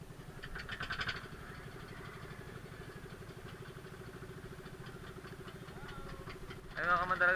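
A boat's diesel engine with a fuel leak idles in a steady low chugging rhythm, sheltering from a typhoon in Camarines Sur, with a brief clatter near the end.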